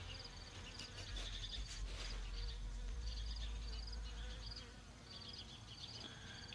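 A dense, continuous buzzing of many honey bees up close, a steady droning hum with occasional higher whines of individual bees.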